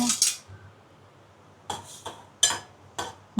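A metal spoon scraping and clanking against a cooking pot while stirring gima shak greens seasoned with salt and turmeric, sharp clinks coming in scattered bursts with quiet gaps between, close and fairly loud.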